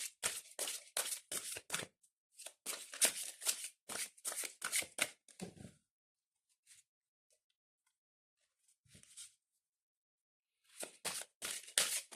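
Angel oracle cards being shuffled by hand in close, crisp bursts of riffling, with a long quiet pause in the middle before another flurry of shuffling near the end.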